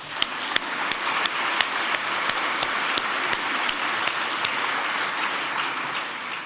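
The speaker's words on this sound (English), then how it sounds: "Big applause for you." Conference audience applauds in a dense, even wash for several seconds, with a few sharp near claps standing out at a steady pace throughout.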